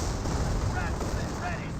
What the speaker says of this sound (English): that was just the strafing run finishing off